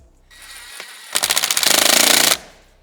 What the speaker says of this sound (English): Getting a couple screws in.